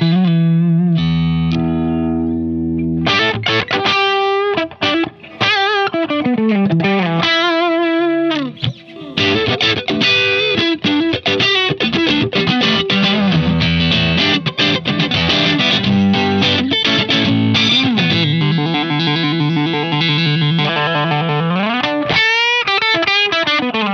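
A Cort G200 electric guitar played through distortion and delay, a sustained crunchy riff of chords and single-note lines with echoing repeats, loud and continuous with no voices.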